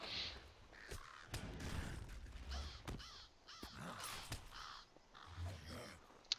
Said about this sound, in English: I'm killing crows